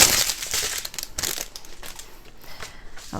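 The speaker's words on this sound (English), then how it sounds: "They all come in little plastic, this plastic bag that makes a lot of noise" Close, busy crinkling and crackling of a thin plastic bag being handled, irregular rustles rising and falling, with no voices.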